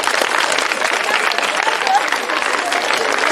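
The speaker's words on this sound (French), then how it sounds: "Ok, on applaudit pour lui." A crowd applauds continuously at a private school flag-raising ceremony, dense clapping at a steady level with some voices mixed in.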